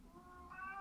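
A single cat gives a short, faint meow, brief and thin, heard alone in a quiet room.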